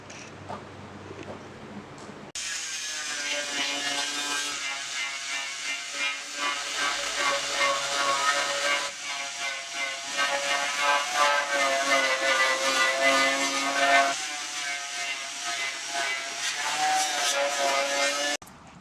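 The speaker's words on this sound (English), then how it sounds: "A whole lot quicker with a die grinder and paint remover wheel." A die grinder fitted with a paint remover wheel strips paint from a car fender, giving a loud, continuous high-pitched whine and abrasive hiss that starts abruptly, dips and surges as pressure changes, and runs steadily alone without talk.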